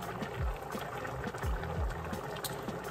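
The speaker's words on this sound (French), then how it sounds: "Ensuite, je vais rajouter l'huile végétale." Vegetable oil poured into a pot of fumbwa with peanut butter, a steady liquid, bubbling sound with a few low gurgles, close and fairly quiet.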